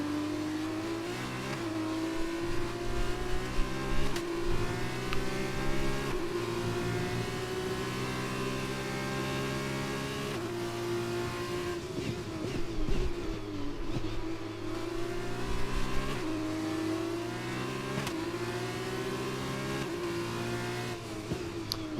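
Formula 2 race car engine in a racing video game, driver career mode at Bahrain, droning steadily at high revs with rising and falling pitch through gear changes, loud and continuous throughout with no talk.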